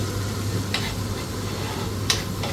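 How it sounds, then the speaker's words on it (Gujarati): Cumin seeds sizzle steadily in hot ghee for a tarka dal, a close, even frying hiss with a couple of faint clinks or stirs on top. "આપણું ઘી રેડી છે તો આપણે નાખી દઈએ એમાં જીરું"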